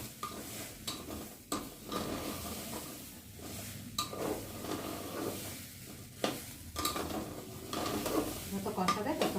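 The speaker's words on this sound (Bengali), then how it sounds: "ভালো করে কষিয়ে নিচ্ছি" Khichuri ingredients sautéed in a pan and stirred over and over, with a spatula scraping and clattering against the metal in irregular bursts over a steady sizzle, close and fairly loud.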